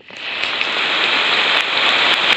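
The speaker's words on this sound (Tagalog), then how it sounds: "Lumalakas yung ulan." Heavy rain pours down in a dense, steady hiss that grows slightly stronger, close around the listener outdoors near a sinking bridge, with no talking.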